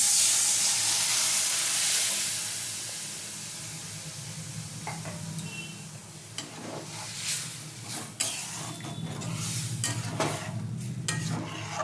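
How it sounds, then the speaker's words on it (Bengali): Boiled dal poured into a pan of fried, softened mango for sour mango dal, with steady close sizzling and repeated spoon stirring and scraping, no voices. "এবারে আমি ডালটা দিয়ে দিচ্ছি, সেদ্ধ ডালটা দিয়ে দিচ্ছি।"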